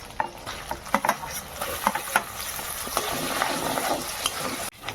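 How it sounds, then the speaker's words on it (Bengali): Ginger, garlic and onion paste fries in hot oil for a chicken dish cooked with biryani spices, a steady close sizzle broken by scraping stirs and a few sharp spoon knocks. "আদা রসুন পেঁয়াজ ভাজা হয়ে গেছে"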